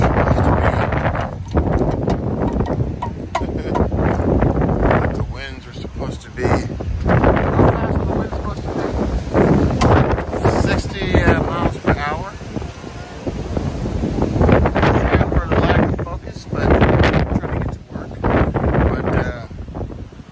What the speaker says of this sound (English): You can hear the winds. It's pretty strong.